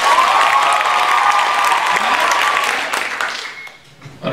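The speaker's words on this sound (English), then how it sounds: "on the count of 3, we're going to clap like a perfect 10." A poetry slam audience bursts into loud, dense clapping and cheering that holds strong for a few seconds, then thins out and dies away, with scattered voices rising near the end.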